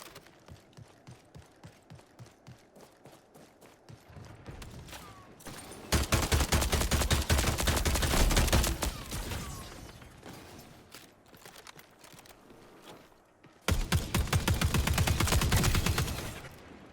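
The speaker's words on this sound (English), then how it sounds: "you can't really tap fire the LMG because it has like that slow buildup of speed" Light machine gun fire in the video game Marathon, starting as sparse single shots and building into two loud, sustained bursts with a rising rate of fire.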